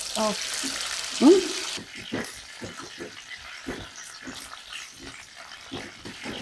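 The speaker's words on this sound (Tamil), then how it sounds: "ஃபர்ஸ்ட் ஆயில் வெந்தயம் என்ன சூடாயிடுச்சு இப்போ வெந்தயம் பொரியுது" Fenugreek seeds sizzle in hot oil in a pan as a Sri Lankan Tamil home curry begins, a bright hiss for the first two seconds, then quieter faint crackles and clatter.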